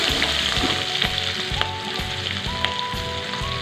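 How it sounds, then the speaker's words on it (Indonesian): Shallots, garlic and bird's eye chili sauté in hot oil with a steady close sizzle and crackle, broken by rhythmic scraping stirs of a utensil against the pan. "sekarang aku mau tumis bumbunya sampai matang"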